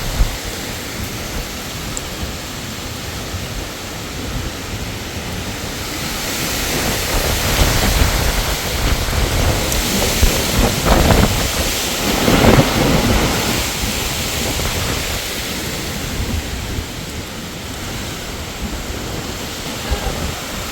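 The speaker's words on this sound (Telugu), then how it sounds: "గాలి మామూలుగా వేయట్లేదు, బయటికి వెళ్తే ఎగిరిపోతామేమో అన్నట్టు వేస్తుంది." Strong gusting wind roars steadily outdoors during a sudden summer weather change, a dense broadband rush that swells louder in the middle and buffets the microphone, with no speech.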